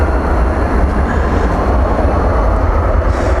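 A passenger jet approaching DFW airport at night, heard as a loud, steady, broadband roar with a deep low rumble that holds constant with no voices.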